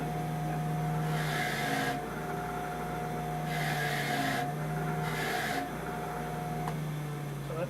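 A wire wheel cleans the head surface of a crank rod during engine assembly. A steady motor hum runs throughout, broken by three separate harsh rasping bursts, each about a second long, as the part is pressed against the wheel.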